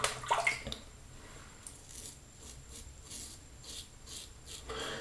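A shaving brush is wetted and worked against Abbate y La Mantia Crumiro shave soap, producing soft close wet rubbing and splashy swishes in repeated strokes at low volume.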